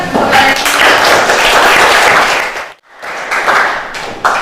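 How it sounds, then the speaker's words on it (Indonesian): A classroom full of people clapping together, loud and dense, with a brief lull before the applause picks up again. "Boleh tepuk tangan."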